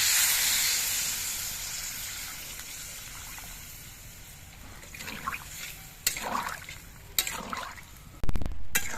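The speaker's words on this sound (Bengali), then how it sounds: "এবার এর মধ্যে আমি ঝোল দিয়ে দিচ্ছি" Broth goes into a hot pan of live koi fish curry with vegetables, over a steady oily hiss that fades before splashy pours gurgle in several loud bursts near the end.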